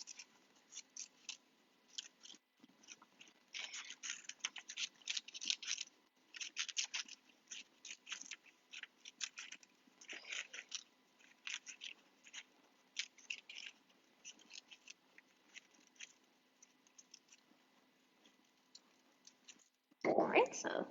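Scissors snip around a penciled circle in paper for a DIY railway lantern, a long run of close, crisp cutting clicks in quick irregular bursts with short pauses, quiet overall.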